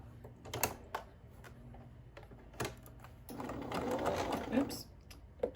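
A Bernina Activa sewing machine stitches a straight seam with a backstitch, giving short mechanical bursts and clicks, then a longer run of needle chatter near the end, close and moderately loud.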